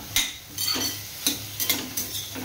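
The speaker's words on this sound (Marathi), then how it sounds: "आता चांगला मिक्स करून घ्यायचा" A spoon stirs masala through ridge gourd cooking in a pan, giving repeated close scraping clacks at an uneven pace over a soft, steady sizzle, with no voices.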